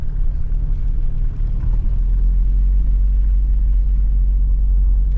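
A Vauxhall Cavalier Mk2 with a C20LET turbo engine pulls away in first gear, a loud, steady low rumble of engine and road noise running continuously with no talk.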